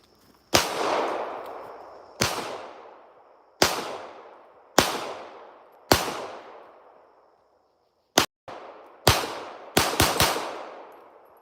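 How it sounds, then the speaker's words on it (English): A short-barrel gun fired in a backyard. About ten loud, sharp shots ring out one at a time with ringing decays, mostly spaced a second or two apart, then a quick cluster near the end. "This gun I can't hit shit with, but we're gonna try."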